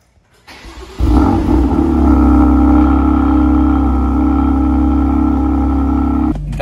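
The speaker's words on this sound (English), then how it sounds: "That exhaust sounds really good." A BMW M2 CS with a newly fitted loud aftermarket exhaust, driven about five hours earlier, cranks briefly. It then fires into a loud, steady, rumbling idle that holds for several seconds before cutting off.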